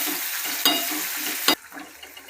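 A spoon stirs tomatoes and green chilies into onion masala sizzling in a pressure cooker for dal dhokli. A steady hiss of frying runs under a couple of sharp scrapes.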